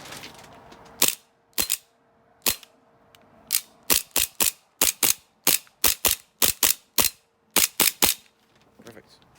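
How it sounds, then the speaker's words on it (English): The slide of an Army Armament R603 Hi-Capa airsoft pistol is worked repeatedly, giving about twenty sharp, loud mechanical clacks close by. They come in quick uneven pairs and singles against near silence. "you have to hold the slide down if you don't have any BBs in there"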